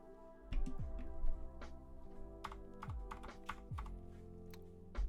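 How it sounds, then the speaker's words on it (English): Typing on an LK67 mechanical keyboard, close and clear, with uneven keystrokes and clacks plus a few heavier thocks, and no voices. "do a quick typing test here."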